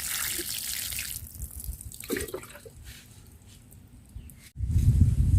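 Water poured onto a potted ginger plant makes a running, splashing trickle that fades to a light drip, then surges again into a louder gush near the end.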